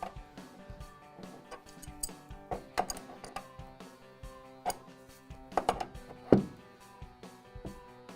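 A spanner works a pipe fitting while a second tool holds the fitting body, giving a string of close, sharp metallic ticks and ratcheting clicks spread unevenly, with a louder clank near the end.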